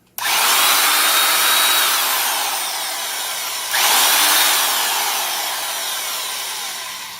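A Hole Hawg right-angle drill runs free with a loud, steady motor whine that starts abruptly, eases slightly, then briefly swells again before tapering.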